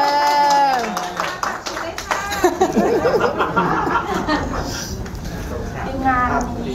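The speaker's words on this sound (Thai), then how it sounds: "ถ้าสวยปรบมือให้กับแม่งาน" Guests at a Thai wedding event clap and laugh together, a burst of crowd clapping and chuckling mixed with voices talking nearby over the sound.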